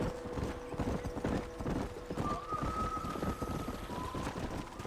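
Steady clip-clop of galloping horse hooves in Red Dead Redemption with a whinny-like tone, continuous rhythmic pounding under wind noise, no talking.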